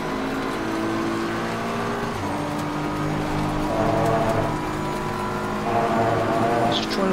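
A pack of race cars on the Nordschleife in Assetto Corsa Competizione, with steady engine drones and rising revs as cars run close together, sustained throughout and no talk.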